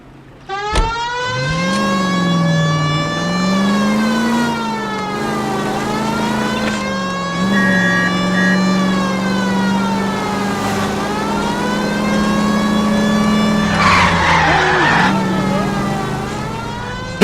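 A car engine revving and droning steadily in L.A. Noire, its pitch rising and falling as the vehicle speeds and turns, with a siren-like wail and brief skid noise, loud and close throughout.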